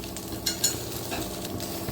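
Aval kuzhipaniyaram batter cooks in oil in a pan, with a close, continuous sizzle and a few brief scrapes and taps.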